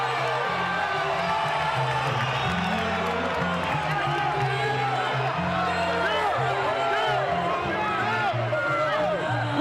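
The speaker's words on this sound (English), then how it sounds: "The crowd is going bonkers." A packed arena crowd at the Oscar De La Hoya vs Floyd Mayweather boxing match roars and cheers wildly in a steady, continuous wall of noise, with a commentator's voice underneath.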